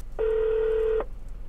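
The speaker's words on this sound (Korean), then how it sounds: "전화해보자." A phone keypad gives one clear, steady electronic tone lasting just under a second, close and loud against faint room noise, as a call is dialed to a tire shop.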